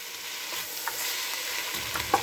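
Onions and canned ingredients are stirred in a pot for a white chicken lasagna soup, a steady soft sizzle with a few light scraping stirs near the end, close and without talk.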